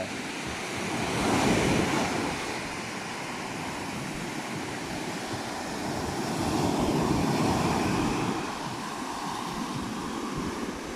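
Steady roar of sea waves washing onto the shore at a resort in Khanom, Thailand, swelling twice, with a constant windy hiss and no voices.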